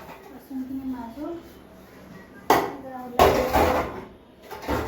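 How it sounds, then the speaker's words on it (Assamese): Dishes, pots and pans are scrubbed in a home, giving loud clattering bursts of metal and crockery close by, alongside someone speaking. "বাচনখিনি মাজো"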